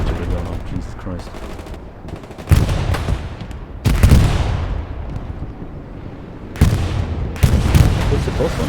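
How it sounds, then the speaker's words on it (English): Heavy booms and crackling bursts of artillery and gunfire in a strategy video game battle, several loud blasts landing amid constant rumbling fire, with voices talking over the noise. "there's a lot of artillery going on"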